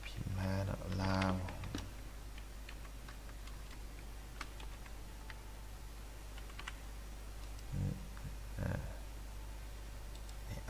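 Scattered key clicks on a computer keyboard while typing in Windows 10 sound fairly faint over a steady background hum, with a few louder bursts near the start and toward the end.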